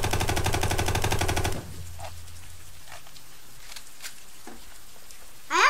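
Video game gunfire: a rapid, loud automatic burst of shots for about a second and a half, then near silence with a few faint scattered clicks and a brief sharp sound at the end.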